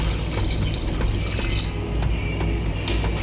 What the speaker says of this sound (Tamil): ஒரு 3 கிளாஸ் தண்ணி ஊற்றிடலாம்.